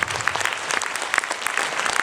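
A concert audience applauds a singer in a brief, steady burst of dense clapping from many hands.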